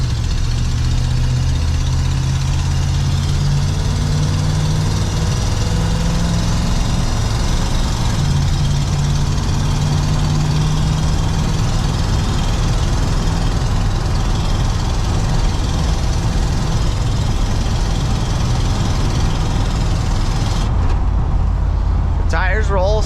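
A 1984 Ford F-150 short-box 4x4 pickup engine runs steadily with a loud, low rumble while driving, continuous throughout, with a brief rattle near the end.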